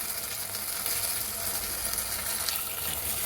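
Tomatoes with a pinch of salt sizzle in a pan while cooking for a paneer mutter masala: a steady, close, even hiss of frying with faint stirring scrapes and no talk.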